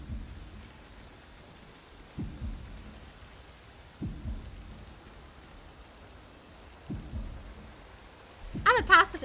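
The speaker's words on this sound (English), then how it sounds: "This library is a little creepy though with the heart beating" Slow, deep heartbeat thuds pulse at regular intervals of about two to three seconds through a creepy library in the Honkai Star Rail video game, low and muffled, with a brief louder burst at the end.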